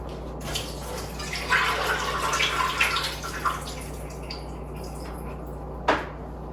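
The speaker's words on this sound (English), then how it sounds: "Now we are going to travel over to the sink and drain this" Boiled sweet potatoes are drained in a kitchen sink: a rushing pour of water splashes for about two seconds, then trickles off, and a sharp knock of the pot sounds near the end.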